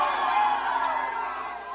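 Comedy club audience cheering and whooping after a stand-up set, a steady dense crowd roar with shouts, loud and continuous for the whole moment.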